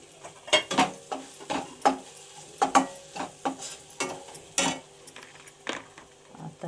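Grated coconut fries in oil with onion, ginger and garlic for a village-style black mutton curry, a light sizzle under clattering, rhythmic scrapes of a ladle against the pot, close by and without talk.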